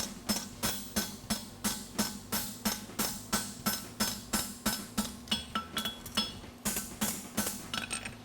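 A blacksmith's hammer strikes hot metal in a fast, steady rhythm while forging a stamped horseshoe at a blacksmithing championship, dozens of sharp ringing clanks close by with no talking.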